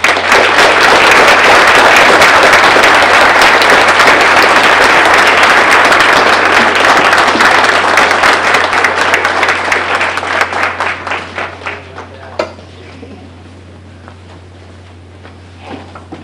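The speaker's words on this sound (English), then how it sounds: "Please join me in a very special round of applause for Mrs." An audience at a high school National Honor Society induction ceremony gives a loud, full round of applause that holds strong, then thins into scattered individual claps and fades out near the end.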